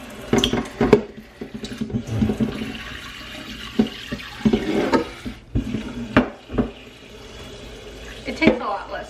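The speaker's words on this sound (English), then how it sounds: "I also have the hot water running." Hot water runs from a kitchen tap while seafood boil ingredients are being prepped, a steady background wash under clinks of pots and dishes and a person talking throughout.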